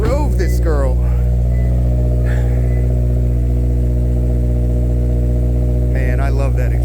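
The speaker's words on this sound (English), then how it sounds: "Man, I love that exhaust." A Subaru BRZ's exhaust drones loud and steady close by while driving shortly after a cold start, with someone talking over it at the beginning and again near the end.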